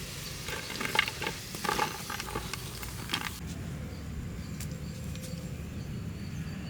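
Chicken pieces deep frying in oil for street-style chilli chicken give a steady close sizzle, with clattering stirs and scrapes during the first half before the frying settles into an even hiss.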